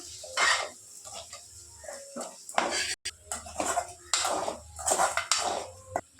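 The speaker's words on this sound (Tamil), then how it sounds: "இப்போ நல்லா கிண்டி விட்டுக்கலாம்" Egg curry being stirred in a pan, repeated loud metallic scrapes and clinks of a spoon against the pan in irregular bursts, close-up over a low background hum, with no talking.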